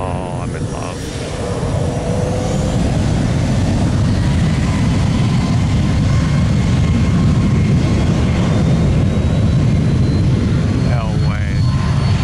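Loud, steady roar of MD-11 jet airliner engines spooling up for takeoff at Tampa airport, a broad sustained rumble filling the whole clip, with a spectator's brief exclamation over it.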